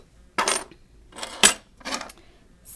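A bunch of library keys is dropped into a drawer, giving three short, close metallic jangles separated by brief pauses, with no talking.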